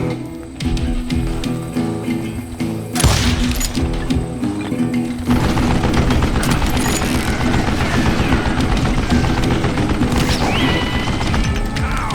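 A mounted gun fires during a shootout in the Western shooter Call of Juarez: Gunslinger. Loud, dense bursts of gunfire mix with crashing impacts and clinks in a continuous barrage, with a sharp surge partway through and no talking.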